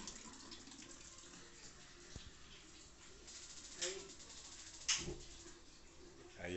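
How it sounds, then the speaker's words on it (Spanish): Hot water running from a tap after a tankless boiler repair, a soft steady rush of flowing water with faint background sounds and a couple of brief clicks. "Aquí le vamos a abrir al agua del agua caliente"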